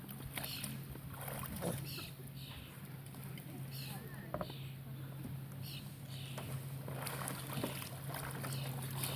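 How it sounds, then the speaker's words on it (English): A Greenland-style kayak paddle sculls back and forth in the water during a rolling demonstration, with soft repeated swishes and splashes near the boat while someone talks over it, with a low hum and outdoor ambience beneath. "by just moving the paddle back and forth, I can bring the whole kayak around."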